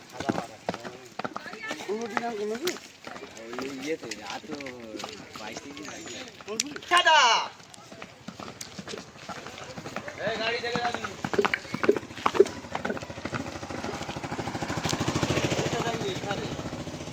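A horse ridden by a rider runs at speed, its rhythmic clip-clop hoofbeats steady throughout and partly buried under loud, continuous talk from people nearby.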